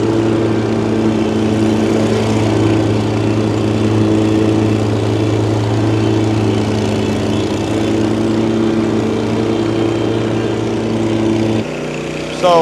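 Leaf blower running steadily near a house, blowing debris toward a garden bed and pool; a loud, continuous engine drone with a sharp cutoff near the end.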